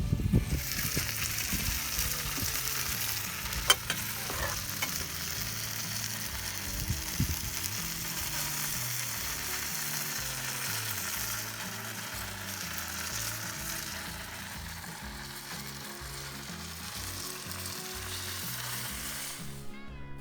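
Burger patties brushed with a teriyaki-based glaze sizzle on an Akorn Kamado grill, a steady hiss with faint crackles and one sharp clink near the start, continuing evenly.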